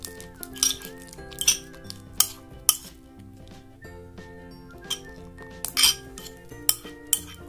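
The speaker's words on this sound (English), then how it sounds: "Let's mix now." Homemade slime is stirred in a bowl, with repeated clinks and scrapes of a utensil against the container, irregular and close, with no talking.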